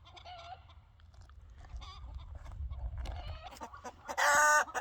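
Chickens cluck and chatter steadily over a low rumble during outdoor perimeter fence installation, building to a loud, drawn-out squawk near the end.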